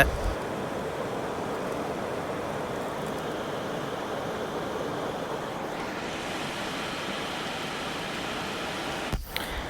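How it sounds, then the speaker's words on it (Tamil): A restored air cooler's fan blows steadily, giving a continuous broad whooshing rush of air close by, with a brief knock near the end and no talk. "ஏர் கூலரில் உள்ள ஃபேனை மட்டும்தான் போட்டு பார்த்தோம்"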